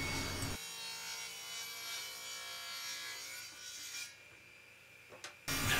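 A table saw rips through maple in a continuous whining, hissing cut lasting several seconds, loud and close, then winds down briefly before a sharp burst of noise returns at the end.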